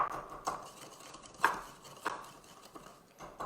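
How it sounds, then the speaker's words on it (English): A wooden spoon pressing and crushing a sugar cube while muddling a cocktail gives a few sharp knocks and grinding taps at uneven intervals, close and fairly quiet, with nobody talking. "now we have to break down the sugar cube, and then use a muddler"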